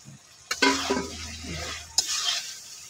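Puti fish frying with tomato in a pan, stirred in two quick scraping passes over a soft, steady sizzle, close and fairly quiet.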